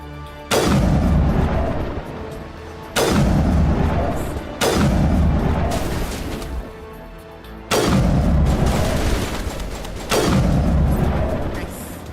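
Orbital strikes in Mass Effect, four or five heavy booming explosions spaced a few seconds apart, each loud and followed by a long rumbling decay.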